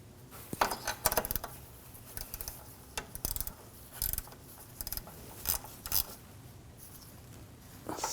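Bolt being threaded and snugged down on a thermostat housing of a 2007–2013 BMW 328i 3.0L engine: faint, close metallic clicks and scrapes in scattered short bursts over quiet background, no talking.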